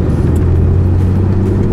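An air-cooled flat-six engine of a Porsche 911 Type 964 Carrera 2 runs steadily nearby with a low, throaty rumble and a constant mechanical whir, fairly loud and unbroken.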